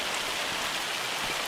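Steady hiss of a heavy hail and rain storm in a Farming Simulator 25 game world, a dense even patter that neither swells nor fades over the short span.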